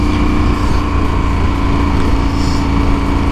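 KTM 1290 Super Adventure motorcycle engine running loud and close, a steady droning hum with no change in pitch, heard alone.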